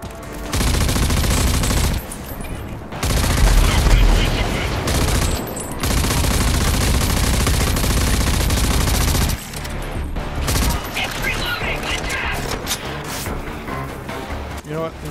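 Gunfire in Rage 2 in an open field, with sustained bursts of automatic fire and heavy shots rattling loudly across most of the stretch, broken by brief pauses, with someone talking over parts of it.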